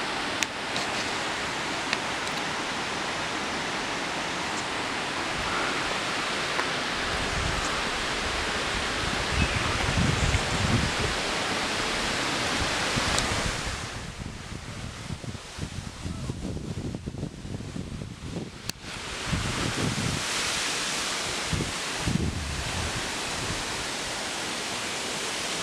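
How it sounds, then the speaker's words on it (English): Steady roar of a waterfall, a dense broadband rush continuing throughout, with a brief dip midway and some rustling or wind over it. "I like to fall asleep to the sound of the falls."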